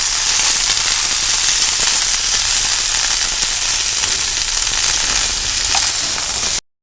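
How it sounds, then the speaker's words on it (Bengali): Winter vegetables for khichuri fry loudly in a pan, a dense, continuous close-up sizzle with no talk until it cuts off abruptly. "সবজিগুলো আমার প্রায় কিছুটা ভাজা হয়ে এসেছে"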